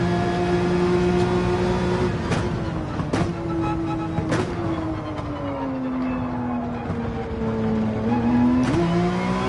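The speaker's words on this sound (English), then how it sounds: "I think I can hear Tom's Ferrari behind me" A Ferrari race car engine in Gran Turismo 7 drones steadily throughout, its pitch rising and falling through gear changes as it runs close behind during a race.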